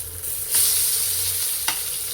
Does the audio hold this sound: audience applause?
no